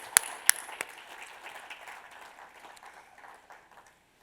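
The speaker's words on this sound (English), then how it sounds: "Let's give those two gentlemen a round of applause" An audience at a semiconductor facility expansion event applauds. A few sharp, loud claps come first, then scattered clapping fades gradually over a few seconds in a quiet hall.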